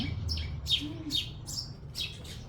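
Sparrows chirp in short, bright bursts, about six chirps spread across the clip over a low, steady outdoor rumble.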